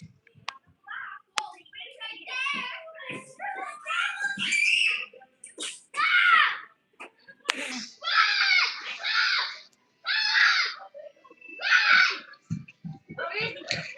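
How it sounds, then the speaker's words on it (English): Children scream and shriek inside a Chuck E. Cheese restaurant in Hialeah, Florida, during a 35th anniversary event, in loud, high-pitched bursts mixed with nearby talking voices. "I don't know why the kids are screaming."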